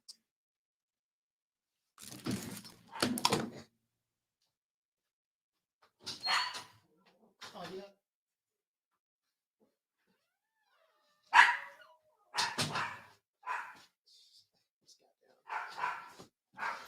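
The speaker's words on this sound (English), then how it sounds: "When you have these little dogs bark all the goddamn time" A small dog barks at someone at the door indoors, sending out scattered bursts of sharp yaps and short whimpers with quiet gaps between them. The barking sounds fairly close, and no speech covers it.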